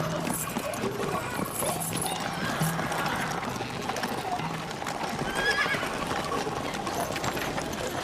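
A horse whinnies amid steady clip-clopping hooves in a dense, busy scene, with voices and other noise running underneath throughout.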